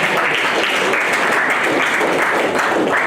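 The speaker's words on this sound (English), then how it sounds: "Please give a clap for the Sony." A conference audience gives steady, loud applause, a continuous dense wash of many hands clapping throughout, with no speech over it.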